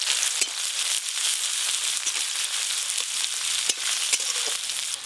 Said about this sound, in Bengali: পেঁয়াজ কুচিগুলো একটু ভালো করে ভাজা ভাজা করে নিই